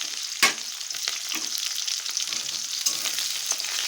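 Onion hits hot oil already holding whole cumin and dried red chilies, giving a steady close hiss of frying with a few sharp crackles and stirring scrapes, and no talk.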